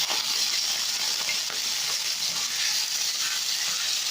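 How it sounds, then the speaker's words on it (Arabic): Chicken liver and gizzards sizzle loudly in very hot oil in a pan, a dense continuous hiss and crackle heard up close and alone. "وبعدين سخنت الطاسه جامد هي والزيت، وبعدين هنزل بالكبده والقوانص مع بعض كده بالشكل ده"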